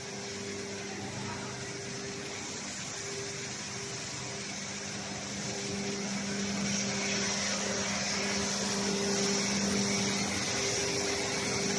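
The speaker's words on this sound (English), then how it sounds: "Yes, this is the dryer." A panel dryer on a fiber cement board production line runs with its internal fan going, a steady loud mechanical whir and hum with a constant tonal drone, rising slightly in level partway through, no talking.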